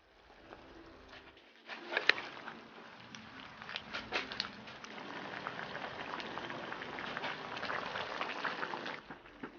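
A tomato beef brisket stew with soy sauce, oyster sauce and tomato heats toward a boil in a pot, giving steady close bubbling and patter with a few sharper pops, continuous and moderately faint throughout.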